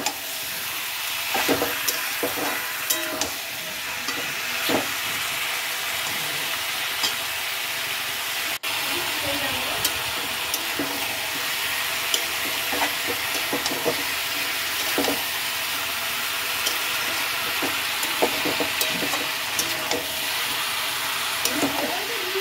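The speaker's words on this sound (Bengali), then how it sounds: "তো এগুলো এবার চিকেনটাকে ভালোভাবে ভেজে নেবো যতক্ষণ না পর্যন্ত কালার চেঞ্জ হচ্ছে" Marinated chicken fries in a pan, giving a steady sizzle with spoon or spatula stirring scrapes throughout and a few clinks. Speech is faint or absent.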